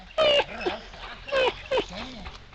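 A dog whimpers and yelps in three loud bursts, high whining cries with softer whines between them, while a person talks nearby.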